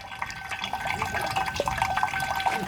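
Liquid pours and splashes steadily from a hand pump, a continuous close trickling and spattering with small irregular drips throughout and no voices.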